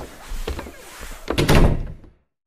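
An indoor door closes with a solid thunk, preceded by some shuffling and handling noises, then quiet.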